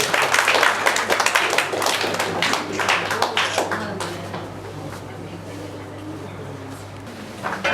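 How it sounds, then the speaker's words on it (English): Close, energetic clapping from an audience at an award presentation, loud at first and then thinning over several seconds into quieter room tone. "Dear audience, a very big applause, please."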